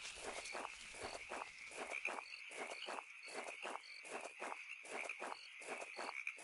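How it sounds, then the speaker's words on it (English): Footsteps walk behind the player in the horror game Irrational Fears, Home: a steady run of soft, evenly spaced steps over a constant insect-like hiss and drone, with no talking. "there's footsteps happening behind me as I walk"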